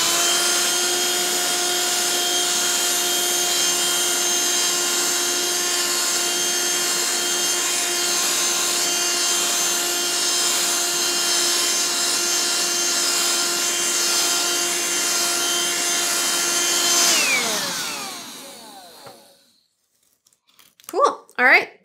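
A Black and Decker Dustbuster mini vacuum runs on fabric with a loud, steady motor whine that winds down at the end, followed by brief rustling handling noises.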